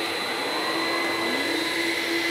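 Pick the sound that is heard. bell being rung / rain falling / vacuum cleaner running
vacuum cleaner running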